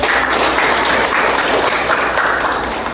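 Classroom applause from students during an elementary teacher-education teaching session: dense, steady clapping from a group that fills about three seconds at an even level.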